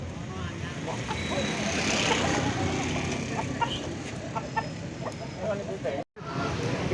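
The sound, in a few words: chickens at the Pecangaan chicken market, Jepara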